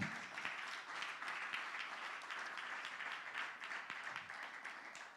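A church congregation claps in acclamation of the Lord after a sermon, a sustained, even round of applause at moderate distance and fairly low volume, with a few cheers mixed in.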